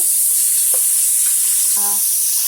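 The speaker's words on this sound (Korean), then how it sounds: "한 숟갈을 하고 먼저 하얀색부터 이렇게 볶아냅니다" Vegetables stir-frying in a spoonful of oil in a pan, a steady loud sizzle with faint stirring clicks and no talk.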